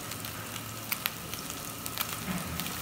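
Onions fry for Turkish saç tava, giving a soft, steady sizzle with faint crackles and a few sharper pops, quiet and with no voices.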